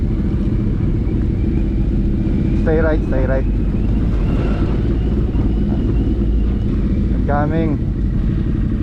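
Constant low engine rumble from a motorcycle close by on a slippery mountain road in Benguet, with a second motorcycle briefly passing, while people exchange a few short words over the noise.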